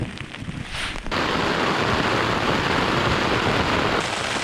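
Heavy thunderstorm rain drums steadily on a camping tarp, a loud, dense hiss that jumps in intensity after the first second and holds constant with wind noise mixed in.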